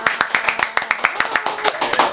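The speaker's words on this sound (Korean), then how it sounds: "박수!" Hands clap together in quick, close, evenly spaced claps, roughly fifteen sharp slaps over about two seconds, welcoming a guest at the start of a studio interview.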